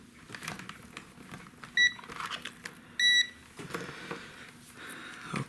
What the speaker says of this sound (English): I gotta test for set for continuity, and as you can see, I touch it and it beeps